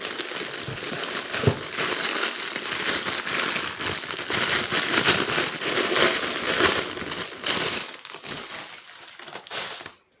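Children's clapper rattles being unpacked from their packaging, with continuous crinkling and crushing of wrappers close by for about ten seconds, steady throughout and dropping out at the very end.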